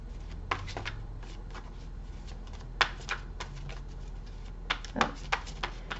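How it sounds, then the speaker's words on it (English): A deck of smooth tarot cards is shuffled by hand in repeated short riffling bursts with quiet gaps between them, close and fairly soft against a low background hum. "These cards are so smooth to shuffle"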